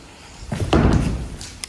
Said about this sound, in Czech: Takže to byly ty dveře.